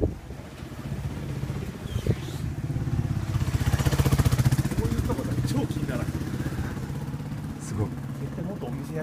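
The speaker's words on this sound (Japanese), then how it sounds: "あ、バイクが。" A motorcycle engine rises and fades as it passes close by on a street in Numabukuro, Tokyo, with a rhythmic low drone peaking midway, under wind noise and occasional voices.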